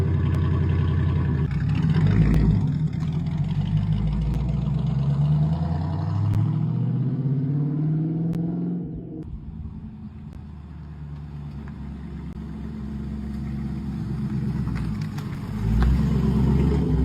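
A TVR Chimaera convertible's engine running, a deep, throaty rumble that swells in a rising rev early on, then settles into a lower, steady idle before picking up again near the end.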